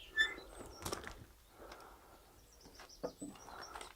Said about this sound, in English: there's some fledglings and I won't disturb them